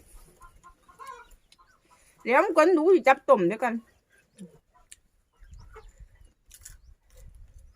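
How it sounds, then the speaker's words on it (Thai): Bantam chickens cluck among people sharing a spicy meal outdoors in a field; a loud, close, warbling call bursts out for about a second and a half amid scattered speech and faint rustling. "ไก่กวนใจอีกแล้ว"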